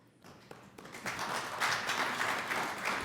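An audience at a planning commission meeting breaks into applause, starting as a few claps and building into a steady patter of many hands from across the room.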